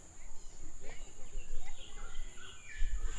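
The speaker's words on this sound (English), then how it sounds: "What you hear in the background is the straw-headed bobo." A straw-headed bulbul sings in a Singapore forest, its warbling phrases faint and distant under a constant insect drone, with forest ambience throughout.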